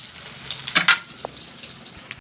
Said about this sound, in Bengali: পটলগুলো এখানে ভাজা হোক